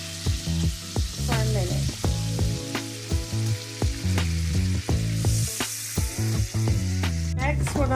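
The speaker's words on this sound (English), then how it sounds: "you want to add in your 2 tablespoons of all-purpose flour. And You want to continue to mix it in with the butter" Two tablespoons of all-purpose flour are stirred into melted butter in a pan for honey pepper chicken mac and cheese. A soft sizzle with stirring plays under background music, and a brief spoken phrase is heard.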